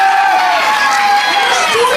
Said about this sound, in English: Let's clap to that journey.